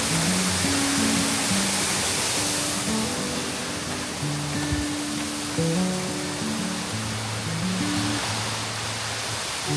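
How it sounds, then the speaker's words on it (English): Steady broadband rush of waterfalls cascading through dense forest on Mt Taranaki, a constant loud roar of falling water with no gaps and no voices. "everywhere you look around, just waterfalls."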